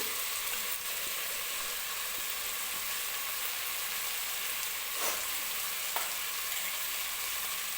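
Mixed vegetables for veg pulao fry with ginger-garlic paste in a pan, giving a steady close sizzle that runs evenly throughout, with a few soft scrapes as they are stirred.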